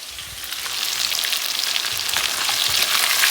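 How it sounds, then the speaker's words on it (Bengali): Chicken pieces frying in oil in a pan give off a loud, steady, close sizzle that swells slightly over time, with no voices. "মাংস ভাজা হয়ে গেছে"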